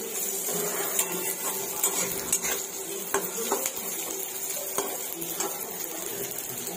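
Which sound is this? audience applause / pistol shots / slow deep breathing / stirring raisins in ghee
stirring raisins in ghee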